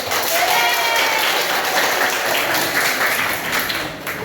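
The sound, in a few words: students applauding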